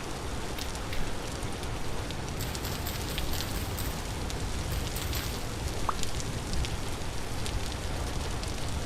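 Rain in the video game Vintage Story falls as a dense, steady hiss of drops, loud and unbroken from start to finish with no talk.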